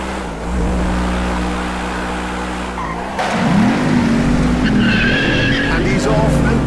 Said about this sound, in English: Just look how fast that thing fires off the line, smoking all 4 tyres.